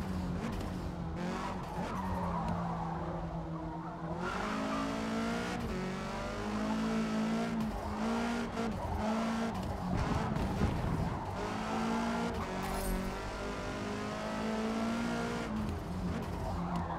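Racing car in the Forza Motorsport video game with a steady, loud engine drone that shifts in pitch as it accelerates, and tyres skidding and squealing throughout.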